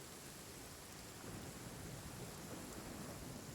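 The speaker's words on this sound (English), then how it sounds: "Oh, it's raining." Steady rain hisses with a faint low thunder rumble in the Genshin Impact video game, a dense continuous wash of noise at low volume with no voices.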